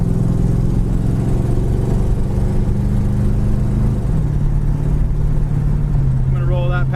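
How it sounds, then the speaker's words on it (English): A 1950 Ford pickup street rod with a 350 fuel-injected engine idles with a steady, close low rumble, its tone shifting slightly as it runs while someone talks over it. "It ain't a speed demon, just a great 350 fuel injected engine."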